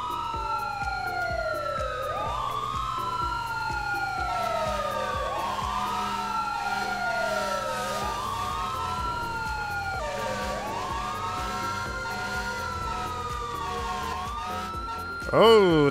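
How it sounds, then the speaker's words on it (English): Video game fire truck sirens wail in repeated rising and falling sweeps over a steady engine rumble, with a loud air horn blast at the very end. "spamming the sirens and the air horns"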